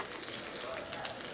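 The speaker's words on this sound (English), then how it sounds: "while our salmon is sizzling" Salmon fillet sizzles steadily in a hot frying pan, a dense, even crackle and hiss with no pause, moderately loud and close.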